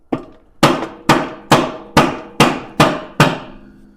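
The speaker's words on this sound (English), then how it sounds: "I'm going to whack it with my whacker, rubber mallet." Rubber mallet striking a 2014 Nissan Altima CVT transmission (JF016E) during teardown: eight loud, solid thwacks in an even rhythm about half a second apart, close by, each with a brief ringing decay.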